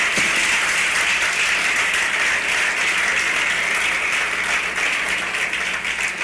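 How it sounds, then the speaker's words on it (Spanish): Loud, sustained applause from a church congregation, dense continuous clapping filling the whole stretch with no break. "si aplaudimos, aplaudimos fuerte"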